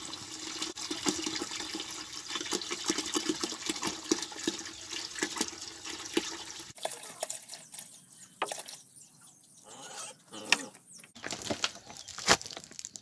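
Tap water running and splashing into a container to dilute waste acid, a steady watery rush for the first half, then quieter, broken pours and drips with occasional louder splashes.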